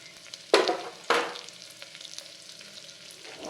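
Sliced large onions sizzle steadily in hot oil and ghee for chicken biryani, with two sharp stirring scrapes early on before the frying settles to a soft crackle.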